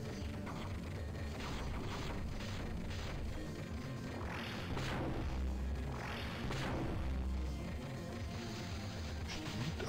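Shooting and explosions in the Dreamcast game Battle Crust: mechanical clanking and rattling fire with two booming blasts around the middle, all moderately faint and without speech.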